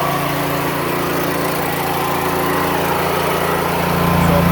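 Predator 9000 tri-fuel generator engine running steadily at close range, a loud, constant mechanical drone with a deep hum that holds even for several seconds, swelling slightly louder near the end.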